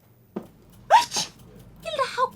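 A single sharp sneeze from a character in a murder-mystery video game set in the Alps, quick and close, followed by spoken dialogue.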